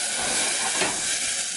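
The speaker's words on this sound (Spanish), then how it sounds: "Vamos a darle un hervor a la piña." A pot of pineapple sauce comes to a boil, giving a steady, close, continuous hiss and bubbling with no pauses and no talking.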